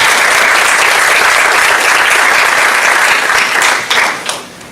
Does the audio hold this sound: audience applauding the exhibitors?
yes